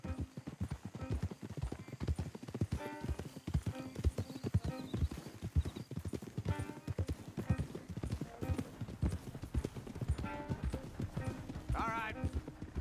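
Steady clip-clop of horse hooves on hard ground in the video game Red Dead Redemption 2, brisk and continuous, with an occasional whinny and voices talking over it.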